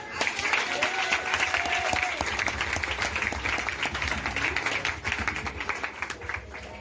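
Sustained applause and cheering from a church congregation acclaiming Jesus, a dense wash of clapping with crowd voices mixed in, steady throughout.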